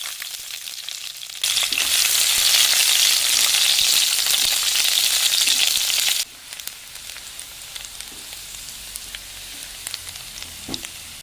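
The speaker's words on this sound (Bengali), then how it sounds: "পেঁয়াজ কুচি দিয়ে দিলাম," Chopped onion hits hot oil in a wok already holding a dried red chilli, bay leaves and panch phoron, bursting into a loud, close sizzle that cuts off abruptly to quieter crackling and clinks.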